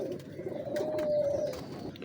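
Old Ferozpuri pigeons coo close by with a soft, throaty warble that swells in the middle and fades against a quiet background.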